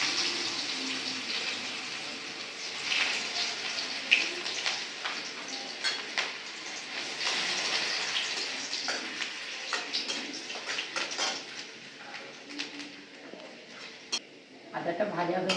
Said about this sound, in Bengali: আদা কুচিটা একটু দিয়ে ভেজে নেব।